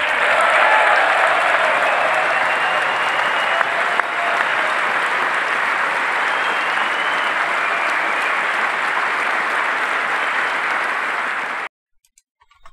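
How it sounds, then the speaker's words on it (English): Members of Congress at a State of the Union address give sustained, dense applause filling a large chamber, steady and loud for about eleven seconds before cutting off abruptly. "standing up taking massive applause for increasing our military spending"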